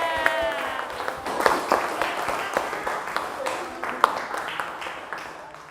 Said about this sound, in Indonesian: boleh kasih tepuk tangan untuk Arga